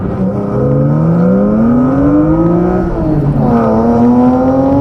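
BMW M3 E36 Evo straight-six revs hard after a downshift, a loud, close, continuous engine note that climbs in pitch, dips briefly, then rises again with no voices over it.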